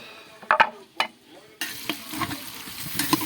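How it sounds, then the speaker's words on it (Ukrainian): Onion and carrot frying in a cauldron while being stirred, with sharp clinks and scrapes of a spoon at the start, then a steady bright sizzle with occasional knocks. "лук у нас готовий, додаємо його до нашої морковки"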